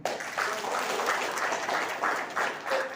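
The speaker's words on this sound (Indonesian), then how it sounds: "Dan kita beri aplaus untuk beliau" An audience at a regional coordination meeting applauds a speaker, steady dense clapping that fills the whole stretch at moderate distance.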